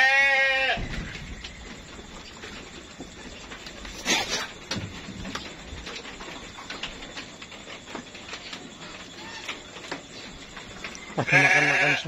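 Anggora goats and young kids in a pen bleating, with sharp close calls at the start and end and scattered fainter bleats and rustling in between.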